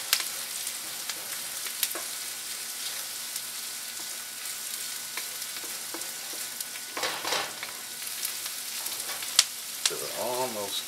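A beef stir fry sizzles in a very hot wok as garlic cooks, producing a continuous hiss with sharp crackles and a few louder spits, close and fairly quiet, with a brief murmur of voice near the end.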